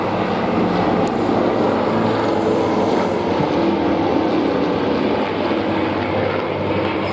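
A Hawker biplane's propeller engine drones steadily and loudly as it flies past at the Duxford Flying Legends air show, a constant broad roar with no speech over it.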